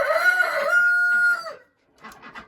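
A backyard hen gives a long drawn-out call, followed after a brief pause by a few short clucks, close and clear.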